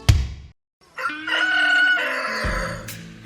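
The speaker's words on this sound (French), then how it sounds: "Après le chant du coq" A rooster crows loudly and close by, one full cock-a-doodle-doo that rises, holds and falls off, coming right after a brief sharp knock and a moment of silence.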